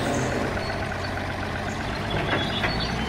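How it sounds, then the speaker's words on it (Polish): A Bizon Z040 combine harvester's engine runs at a steady, loud drone during the harvest, with a constant low rumble and no pauses. "słyszycie ten piękny rytm pracy tego, prawda, silnika"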